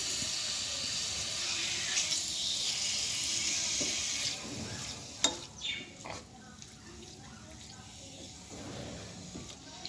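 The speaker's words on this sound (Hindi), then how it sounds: "अब इसमें हम अपने चिकन क्यूब्स शामिल करेंगे और अच्छी तरह से उसको फ्राई करेंगे" Chicken cubes hit hot oil with a loud hissing sizzle that fades after about four seconds, followed by scattered clatter and utensil knocks, with a voice heard at times.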